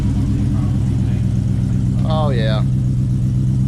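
A Coyote-swapped, Whipple-supercharged Fox-body Mustang on E85 with a full 3-inch exhaust and 1 7/8 headers, rumbling loud and close in a steady low growl, while a man briefly exclaims over it.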